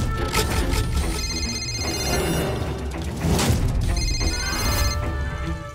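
A telephone rings repeatedly in loud, bright bursts over a busy, cluttered background of crashes and noise, with no talking.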